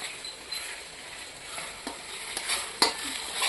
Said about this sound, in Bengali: এই যে চিকেন কষা হচ্ছে।